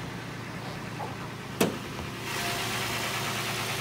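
A 2011 Toyota Tacoma Base V6 idles quietly with a low, steady hum, one sharp click partway through, and the engine tone rising slightly in the final seconds.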